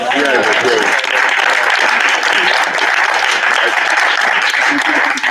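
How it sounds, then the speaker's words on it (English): An audience at a performing arts accessibility discussion gives a steady, dense round of applause that fills the room for the whole stretch, close and even in loudness. "let's give one last round of applause to the folks in the center"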